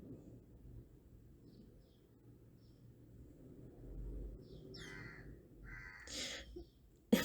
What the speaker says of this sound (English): I'm so sorry if you hear that as some crows.